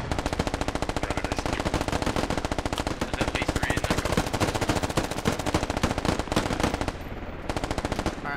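A helicopter gunner's machine gun fires in a video game, a loud, continuous rapid burst that holds steady for several seconds with only brief dips near the end.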